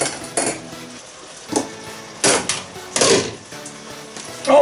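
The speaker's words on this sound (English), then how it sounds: "I'm now going to put the noodles in" About 150 grams of noodles dropped into a cooking pan for ginger shiitake mushroom noodles, giving several separate clattering knocks and scrapes of metal spaced across the moment, fairly close and loud.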